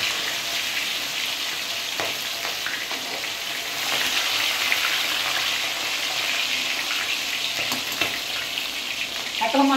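Food sizzling in hot oil in a kadhai wok, a loud continuous crackling fry with occasional stirring clinks and scrapes, close by and without talk.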